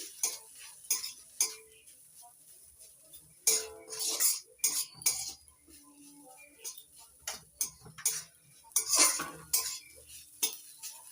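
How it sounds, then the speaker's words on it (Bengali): A utensil stirs onion and grated coconut frying in a pan, sharp metallic scrapes and taps arriving in irregular clusters, close and clear, with faint background sizzle between strokes. "এবার নাড়াচাড়া করে ভেজে নিচ্ছি"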